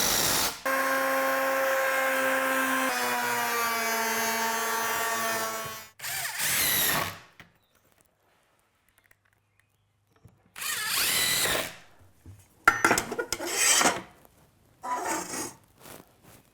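A power drill drives 2.5-inch screws into scrap wood while building a garage workbench, with a long steady whine as the motor spins, then several shorter bursts with pauses between them, close and loud with no talk.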